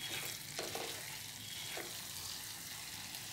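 Capsicum curry seasoned with MTR garam masala, stirred and fried in a pan, a steady sizzle with a couple of brief spoon scrapes over it, fairly close and alone.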